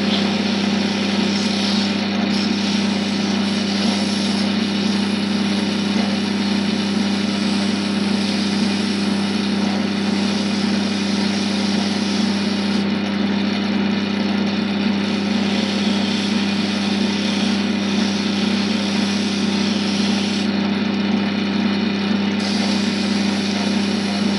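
Wood lathe spinning steadily while a segmented pen blank is sanded on new bushings, a loud continuous motor hum and drone holding constant from start to finish.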